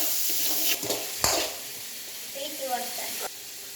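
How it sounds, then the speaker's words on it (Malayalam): Onions and curry leaves sautéing in hot oil with mustard seeds, fenugreek and dried chilies, a steady sizzle broken by a few sharp scraping stirs of a spoon in the pan, close and fairly loud. "നമുക്കൊന്ന് ഇളക്കാം. ഇനി നമുക്കിനൊന്ന് വാട്ടിയെടുക്കാം."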